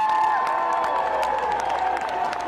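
At a Yorkshire rally, a large crowd cheers Jeremy Corbyn with a continuous roar, punctuated by scattered claps, whistles and shouted whoops throughout.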